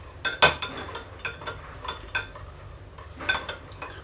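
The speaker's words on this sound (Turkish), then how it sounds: "Karıştırarak eriteceğim şimdi bunu." Metal spoon stirring melting soap base in a pot, giving a series of light scraping clinks against the pot wall at an irregular rhythm, close and fairly quiet.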